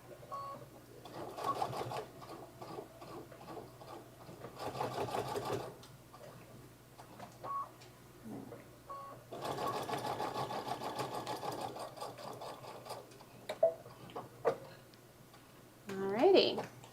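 A sewing machine back stitches a fur tote bag in several loud bursts of rapid motor whir, separated by pauses with faint handling noise and a few sharp clicks near the end.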